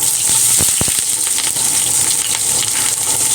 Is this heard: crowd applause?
no